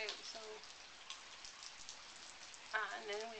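Light rain falls outdoors at a farm in Tomaj, a soft steady patter of drops, with people talking quietly at the start and again near the end.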